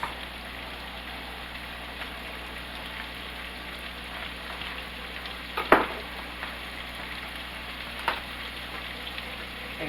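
Cabbage and sausage fry quietly in a pan with a soft, continuous sizzle, broken by a sharp scrape or clatter near the middle and a lighter knock a little later.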